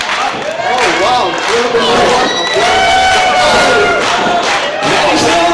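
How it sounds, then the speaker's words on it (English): A live crowd at a New Era Wrestling tenth anniversary event cheers and shouts continuously and loudly, with yells and a commentator's voice over the sustained roar. "fans getting behind Heidi"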